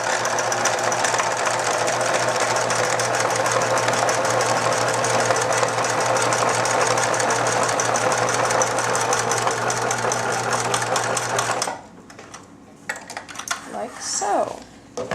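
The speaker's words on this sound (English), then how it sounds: "So just sew straight down." A sewing machine stitches a straight seam along a fabric snack bag, humming in a steady, rapid mechanical rattle for about twelve seconds before stopping, followed by a few light handling clicks and rustles.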